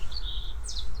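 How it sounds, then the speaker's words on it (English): A robin's thin, high-pitched calls, a couple of short sweeping notes over a low background rumble, fairly close. "You hear the robin calling there"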